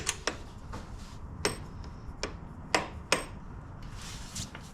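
Sharp metallic clicks and taps ring out at irregular intervals while a part is tightened on a Yamaha Raptor 700R ATV, fairly faint and close, with quiet background between strikes.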